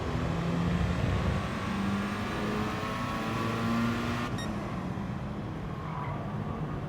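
Racing car engines in the Gran Turismo Sport video game drone steadily together, with several pitched engine tones sliding up and down as cars jostle closely through a race.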